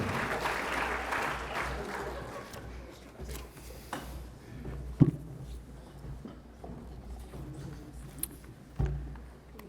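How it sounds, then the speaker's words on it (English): Steady audience applause at a property and infrastructure summit welcoming a panel on high-speed rail, a sustained wash of clapping that thins toward the end with a few louder knocks. "Ladies and gentlemen, join with me in welcoming your panellists."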